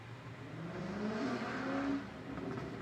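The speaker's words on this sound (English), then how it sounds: "Oh my gosh, can you hear that car?" A car goes by outside a closed bedroom window, a steady low engine roar and whir that swells through the middle and eases off toward the end, muffled and moderately distant.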